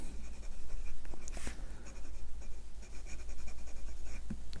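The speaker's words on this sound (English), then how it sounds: "Reverse writing is possible" A Namisu Horizon fountain pen with a fine nib writing upside down on paper, giving a steady close scratchy scribble of short strokes with a few light taps, alone without talk.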